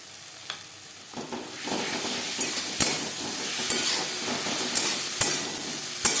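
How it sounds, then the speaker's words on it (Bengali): Ginger and green chili paste stirred into onion and tomato in a pan, with a steady sizzle and repeated close scraping strokes of the spoon, no talk. "পেঁয়াজ টমেটোর সাথে আদা ও কাঁচা লঙ্কা বাটা বেশ ভালো করে মিক্স করে দেবো"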